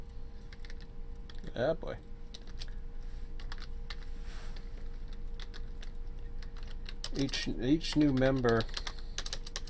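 Someone types steadily on a computer keyboard while setting up server procedures for a Run8 V2 train simulator live stream, with continuous soft key clicks running under brief bursts of nearby talking.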